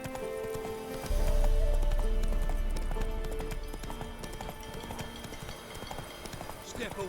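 A horse gallops in The Witcher 3, its hooves pounding in a heavy rhythmic clip-clop that starts suddenly and carries on close by, with ambient game sound and some voices over the hoofbeats.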